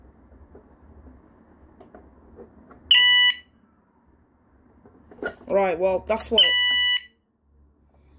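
Two short bursts of a shrill tamper siren from a Risco Novaguard 2 intruder alarm, each about half a second, with someone speaking briefly between them.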